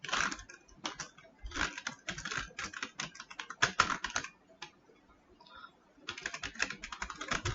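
Close, quiet keystrokes on a computer keyboard as JavaScript code is typed, in uneven bursts of rapid clicks with a short pause partway through before the typing resumes.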